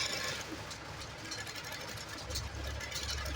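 A home sewing machine stitches the neckline of a blouse, a faint, steady low motor whir with a soft mechanical patter, heard at close range with no talking.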